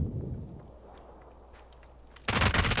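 A quiet stretch of faint ticks gives way near the end to a sudden loud burst of rapid P90 submachine gun fire in a video game.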